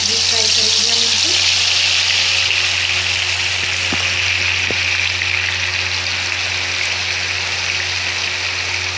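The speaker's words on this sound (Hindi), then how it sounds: "अब मैं इसको डीप फ्राई करेंगे हम इनको।" Chicken tikka deep-fries in plenty of hot oil in a kadai, a loud continuous sizzle and bubbling that stays steady throughout, with a couple of faint clicks.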